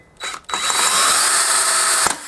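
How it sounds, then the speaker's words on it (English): A power drill whirs loudly and steadily for about two seconds after a brief start-stop, then winds down abruptly, while removing a broken bolt from a pit bike. "So we're going to try it with this drill."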